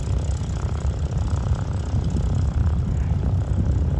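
B-17G bomber with its piston radial engines running on the ground before takeoff at Gatineau airport, a loud, steady, throbbing propeller drone throughout with no talking.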